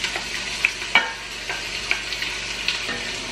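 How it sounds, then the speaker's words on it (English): Chopped onion sauteing in olive oil in a large hot saucepan, a steady soft sizzle with occasional stirring clicks and scrapes of a utensil, close and moderately quiet, no talking. "I'm just going to saute that for a couple minutes"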